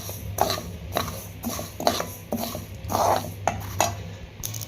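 Whole spices, cardamom and cloves, crackle and pop while roasting in a pan over medium flame for chicken pickle; a string of sharp, irregular snaps and ticks recurs close by over a low steady hiss.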